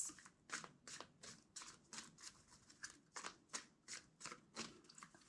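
A tarot deck riffled and shuffled in quick bursts, about a dozen crisp ruffling strokes in a steady rhythm, close and fairly quiet, with no talking.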